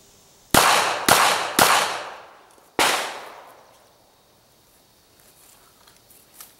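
A .380 pistol fired from a Kydex pocket holster: four sharp, loud, close reports, three in quick succession and a fourth after a short pause, each with a brief ringing decay, followed by near silence.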